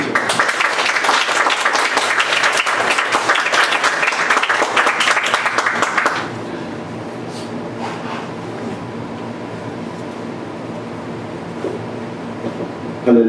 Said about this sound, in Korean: 우리 목사님 오실, 오실 때 그럼 큰 박수로 맞이해 주시기 바랍니다